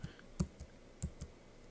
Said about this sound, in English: you can just start to type the payee's name